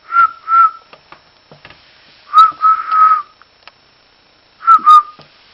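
A young child whistles in short clear bursts, several separate pairs of notes with quiet gaps between them, close to the listener.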